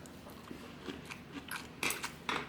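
Someone bites into a crispy, pan-fried kimchi pancake at a small restaurant, making several close, sharp crunches and softer chewing sounds in irregular bites, with no talking.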